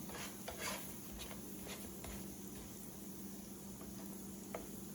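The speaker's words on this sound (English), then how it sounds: "Let those sizzle." Biscuit pancakes sizzling in a pan, a soft continuous crackle with a low hum and occasional light clinks of utensils.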